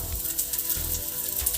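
Finely chopped garlic, about five cloves, sizzling in hot oil in a pan, a steady bright crackle and hiss with small popping bursts, close and continuous.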